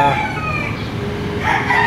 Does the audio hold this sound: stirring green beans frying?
no